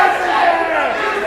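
Wrestling arena crowd shouting and chanting in a steady, loud roar during a Dusty McWilliams vs J-Money match, brief and continuous with no clear gaps.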